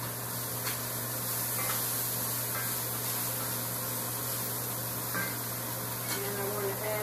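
Stuffed flounder fries in oil in a cast iron pan, a steady close sizzle and spatter running throughout at moderate level with faint background hum.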